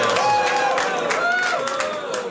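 A studio audience crowd at a wrestling interview show reacts with a loud, continuous wash of cheering and murmuring, with scattered clapping and whistles, fairly close.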